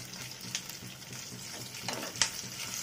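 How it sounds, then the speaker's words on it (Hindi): Cumin, garlic and onion fry in oil left over from frying eggplant, a steady soft sizzle in a pan with occasional louder crackles and stirring scrapes, close and fairly quiet. "तेल बैंगन फ्राई करने से बचा था उसी तेल में मैं ये मसाले को फ्राई कर रही हूँ"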